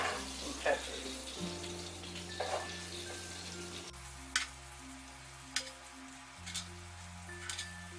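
Onions and peppers cooking in bacon drippings and oil in a pan, a soft sizzle running under intermittent clinks and scraping, with a steady background hum and no voice.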